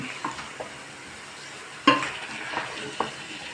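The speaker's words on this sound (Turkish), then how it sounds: "Yağsı, salçası, soğanı, tuzu hepsi karışıyor. Güzelce kavruluyor." Onion, tomato paste, oil and salt sautéing together in a pan, a soft continuous sizzle broken by several distinct clinks and scrapes of a spoon being stirred through the mixture.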